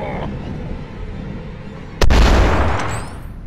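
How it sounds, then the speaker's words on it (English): Gunfire in the video game The Beast Inside: one loud, booming shot cuts in suddenly after a stretch of low ambient noise and rings out for about a second. "That's not me shooting."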